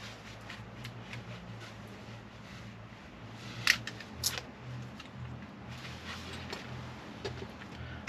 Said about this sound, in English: if I tape them together with some insulated tape every so often